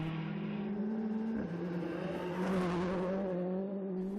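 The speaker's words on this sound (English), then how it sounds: "Ian Joel and Graham Wood bring the Escort Cosworth out for a blast and settle into an early second position." Ford Escort Cosworth rally car pulling hard on a special stage, a loud steady engine note climbing through the revs with a brief dip near a gear change, close and continuous with no talk.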